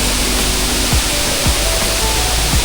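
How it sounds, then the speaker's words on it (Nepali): An artificial waterfall in a park in Jinju, Gyeongsangnam-do, Korea, gives off a constant broad rushing roar of falling water, loud and near, with a few faint tonal swoops beneath it. "कोरियाले यो चाहिँ बनाएको झरना हो।"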